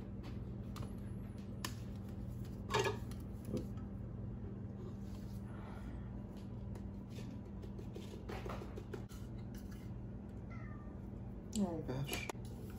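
A cat meows a few times at scattered intervals over a constant low background hum.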